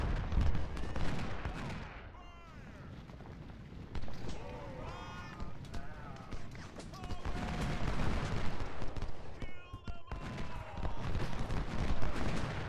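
Musket volleys and battlefield gunfire from the Civil War strategy game Ultimate General: Civil War crackle in bursts over a dense roar of combat, with someone talking over the din at times.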